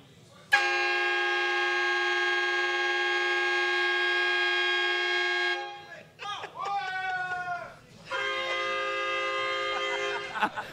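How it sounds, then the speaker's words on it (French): Two TGV train horns blare indoors in a room, one long sustained loud chord, then bending wavering tones with voices underneath, followed by another steady blast. "J'en reviens pas qu'on ait 2 klaxons de TGV dans la même salle"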